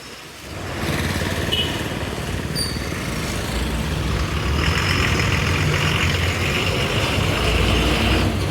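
A TNSTC bus bound for Chennai pulls away. Its diesel engine swells from quiet into a loud, steady roar that holds and grows slightly as it departs.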